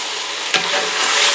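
About two pounds of seasoned lamb meat for a Moroccan stew browns in a hot pan, giving a loud, continuous sizzle with a brief stirring scrape partway through.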